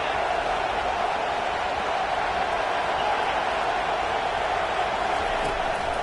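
A college football stadium crowd roars in a steady, dense wash of noise throughout, loud and unbroken, during a game against TCU.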